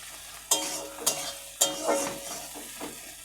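Leftover flatbread frying in a pan, three sharp bursts of sizzle and stirring scrapes fading between strokes, close and alone.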